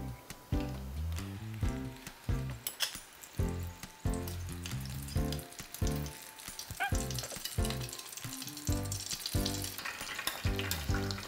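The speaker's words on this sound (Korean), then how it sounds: "저희가 준비한 표고버섯도 한 2번 정도 튀겨 주겠습니다" Shiitake mushroom pieces deep-fry in oil in a small fryer for mushroom tangsuyuk, giving a bubbling, crackling sizzle with clattering stirs, set against background music.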